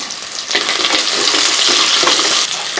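Long-sliced onion and curry leaves fry in hot oil in a pan for a home-style okra curry, making a loud, close, continuous sizzle that swells after a brief quieter start. The sound carries on alone, with no talking.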